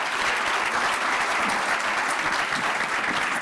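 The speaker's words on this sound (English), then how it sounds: "my friends in the front, give them a round of applause" Steady applause from an audience at a diversity, equity and inclusion event, dense and sustained clapping filling the room at even loudness throughout.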